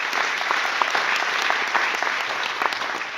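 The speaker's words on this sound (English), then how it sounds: "1 big round of applause" A tech-conference crowd in Bucharest claps to welcome a speaker to the stage, a thick, continuous wash of many hands at even loudness with scattered sharper claps standing out, and no speech on top.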